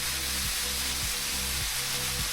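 Ribeye steaks in teriyaki marinade searing on a Blackstone griddle, a steady broadband sizzle held close and loud throughout, with a low periodic hum pulsing underneath.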